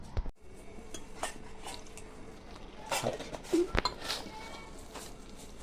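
Maida flour dough being mixed and kneaded by hand in a bowl for momos, with soft squishing, scraping and occasional clinks of the bowl, moderately close and fairly quiet, no talking.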